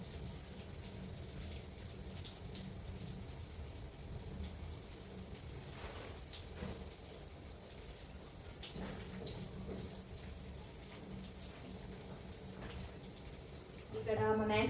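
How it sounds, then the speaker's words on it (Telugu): Water poured over garden plants and recently sprouted tomato seedlings, a continuous splashing patter with a brief louder burst at the end. "నా మొక్కలకి వాటర్ అయితే పోస్తాను"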